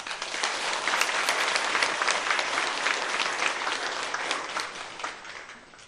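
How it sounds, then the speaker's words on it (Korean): A church congregation at a youth dedication worship service claps together in a full, even burst of applause lasting around six seconds, with no talking over it. "우리 교회 청년들 위해서 우리 박수 한번 쳐주세요."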